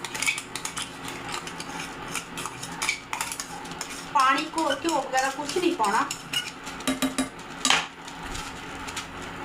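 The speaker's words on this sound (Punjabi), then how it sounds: "ਸਾਰੇ ਪੇਸਟ ਨੂੰ ਇਹਦੇ ਵਿੱਚ ਪਾਉਣਾ ਜਿਹੜਾ ਆਪਾਂ ਫਰਾਈ ਕੀਤਾ ਸੀ" A utensil stirs and scrapes through tomato paste in a metal kadhai, giving a steady, close clatter and scraping with rhythmic strokes, while someone speaks over it.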